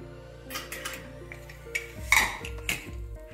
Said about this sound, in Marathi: जरा थोडंसं झाकण ठेवूया म्हणजे वास चांगला राहतो।